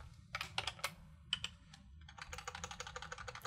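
A file name is typed on a computer keyboard: a few scattered keystrokes, then a quick run of soft, close clicks in a quiet setting.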